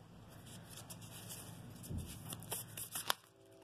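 A deck of Moonology oracle cards is shuffled quietly up close, soft papery riffles and taps building toward a few sharper card snaps near the end, with no talking.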